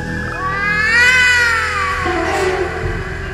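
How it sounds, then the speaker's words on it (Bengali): A cat meows outside close behind a moving train, one long, loud, rising and falling wail that ends in a lower drawn-out tail, with no talking. "আমার ঠিক পিছনে বাইরে একটা বিড়ালের ডাক শুনতে পেলাম"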